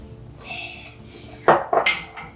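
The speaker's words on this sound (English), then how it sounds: "You're churning butter, buddy." A utensil mixes butter and egg in a bowl for chewy almond flour keto chocolate chip cookies, with soft scraping followed by a few sharp, loud clinks against the bowl near the end.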